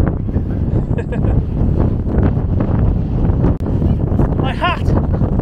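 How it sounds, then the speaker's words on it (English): Strong wind buffets the microphone on an exposed hilltop, a steady broadband roar with gusts that runs the whole time, while a person talks over it. "It is very, very windy up here"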